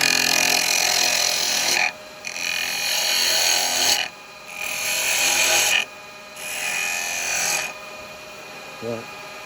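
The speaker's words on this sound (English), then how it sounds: "I do like this spindle gouge. So just come in on the edge." A spindle gouge cuts wood on a lathe in bursts of bright hissing, about four cuts of roughly two seconds each with short breaks between them, close by, with no one talking.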